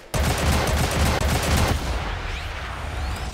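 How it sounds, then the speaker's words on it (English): Loud sustained gunfire and explosions in Sniper Elite 5 as an enemy's rocket launcher is shot and blows up, a dense rattling fusillade that gives way to a rumbling, fading aftermath. "you can blow it up by shooting it"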